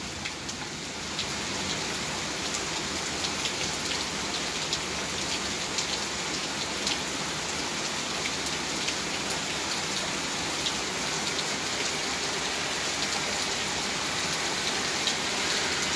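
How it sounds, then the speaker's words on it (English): Strong rain pours in the early morning, a dense, even hiss of drops hitting surfaces that holds steady and close throughout with no voices. "Strong rain we got here"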